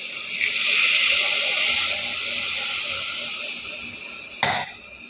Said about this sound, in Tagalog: lagyan natin siya guys ng tubig na pinakulo